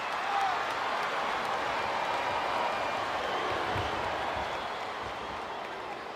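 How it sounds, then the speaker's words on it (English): A large crowd roars and cheers steadily from a distance in the WWE 2K25 wrestling video game, a dense wash of voices without pause. "This capacity crowd is making their opinions known tonight."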